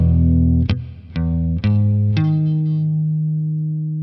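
Distorted electric guitar plays a riff with effects-laden tone: four sharp picked power-chord hits about half a second apart, the last one ringing out and slowly fading, alone with no talking.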